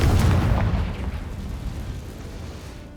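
Confringo blasting spell exploding in the Hogwarts Legacy video game, a loud deep boom at the start that rumbles and fades away over a few seconds.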